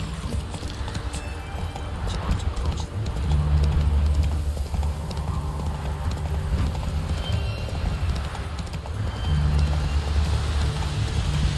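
Horse hooves clatter in a steady galloping clip-clop in The Witcher 3, loud and continuous with a low rumbling bed beneath, and a brief whinny may rise among the rhythmic hoofbeats.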